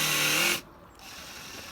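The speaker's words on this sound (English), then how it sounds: "just going to drill a tiny bit further in because then I can do it with the wood attached" A power drill whines steadily while drilling into wood during a spice rack build, then cuts off abruptly after about half a second, leaving a quiet room hum.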